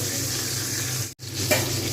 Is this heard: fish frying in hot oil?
yes